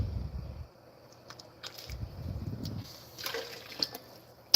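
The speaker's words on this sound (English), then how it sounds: "Well, that's a little bit of water going down the drain there." Hot water from a pot drains down a sink, coming in two short gurgling gushes separated by quiet, followed by faint trickles and small clinks, fairly soft and close, with no voices.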